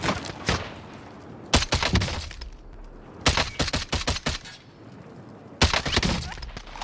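Bursts of rapid automatic gunfire from a Warzone battle royale match, three loud volleys of shots with crackling echoes and quiet gaps between.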